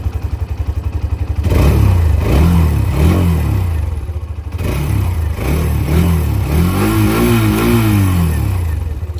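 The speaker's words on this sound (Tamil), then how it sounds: "எக்ஸாஸ்ட் நோட் நல்லாயிருக்கும்." A 2026 Hero Xtreme 125R motorcycle idles with a rapid low putter, then its exhaust revs up and falls back several times, loud and close.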